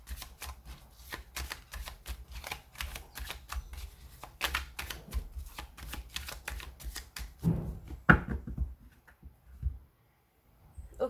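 A deck of tarot cards is shuffled and cut, producing a steady run of soft riffling rustles for about eight seconds, then a few sharper taps and quieter handling sounds near the end. No one speaks.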